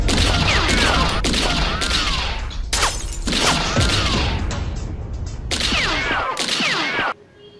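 Gunshot sound effects from a gun visual-effects demo, a series of loud sharp bangs with ringing tails repeating every second or so over a busy backdrop, then stopping abruptly near the end.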